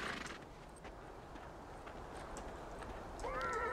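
A horse in the video game Beyond Two Souls makes faint, soft hoof shuffles, then gives a short high whinny near the end, quiet and with no talking.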